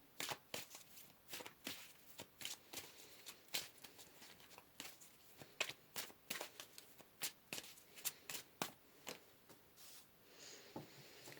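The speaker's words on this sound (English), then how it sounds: "Let's get some more cards here." Tarot cards are handled and shuffled in repeated crisp riffles and slaps, a steady series of close, sharp card bursts in a quiet room.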